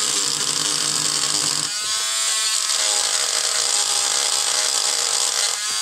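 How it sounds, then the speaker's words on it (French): Power sander grinding along the edges of a hand-made resin palette, a loud, continuous high-pitched buzz that briefly drops in pitch and load partway through, then resumes steadily to the end. "on va venir comme ceci poncer une petite aspérité. Voilà, on vient poncer les bords"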